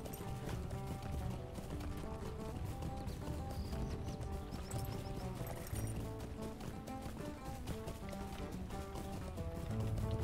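In the video game Lord of the Rings Online, a horse's hooves clop in a steady galloping rhythm beneath game music, faint and continuous across the whole stretch.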